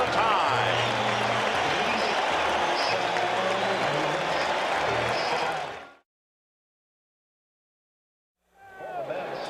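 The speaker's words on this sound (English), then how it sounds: "And the crowd is on its feet at Shea at the end of 5." Baseball crowd at Shea Stadium cheering and applauding during the 1986 World Series, a dense roar for about six seconds that cuts to silence before swelling back in.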